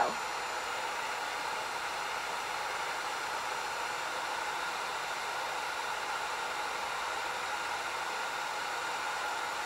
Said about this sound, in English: heat gun. Turn it on high, and then you're gonna wanna let this heat up just a little bit